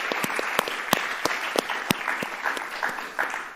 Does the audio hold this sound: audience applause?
yes